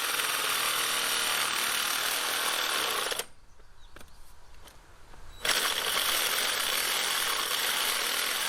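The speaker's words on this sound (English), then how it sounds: "We're going to drill the holes for our firewood rack," A power tool drills holes for a firewood rack in a loud, continuous whine, breaking off for about two seconds of quieter handling noise before starting again.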